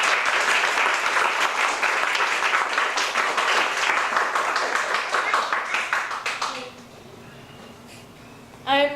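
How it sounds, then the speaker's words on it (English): An audience at a Toastmasters youth leadership graduation claps in a dense, loud burst of applause that lasts several seconds, then quickly dies away, leaving a quiet room and a brief voice at the end. "Clap again."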